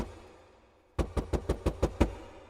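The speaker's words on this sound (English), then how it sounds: "He knocked again." Seven loud, close knocks in a quick, even series rap on a front door fitted with a large knocker, after a brief quiet hush.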